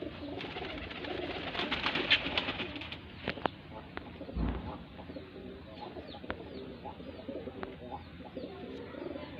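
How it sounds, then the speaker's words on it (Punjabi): Pigeons coo nearby amid scattered sharp clicks and knocks, with a soft rustling background and brief louder bursts. "ਆ ਕਬੂਤਰ ਆ ਗਿਆ"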